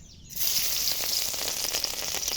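Garlic powder and a splash of water hitting a hot pan, bursting into a loud, bright sizzle after a brief quiet start and then frying steadily on.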